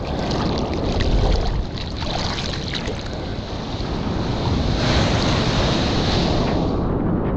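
A heavy wave breaks at a black-sand beach in Playa Hermosa, Costa Rica, a loud broad roar of surf mixed with buffeting wind noise that swells and eases throughout.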